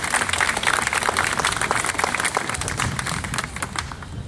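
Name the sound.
audience applause at a sports banquet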